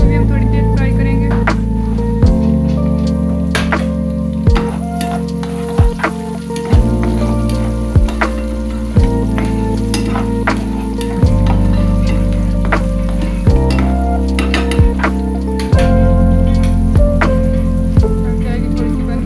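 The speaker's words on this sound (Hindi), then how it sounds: "शिमला मिर्च को भी हम थोड़ी देर फ्राई करेंगे।" Chopped bell peppers fry loudly in a pan, a dense close sizzle that runs throughout, broken by occasional clinks and stirring scrapes, with no voices.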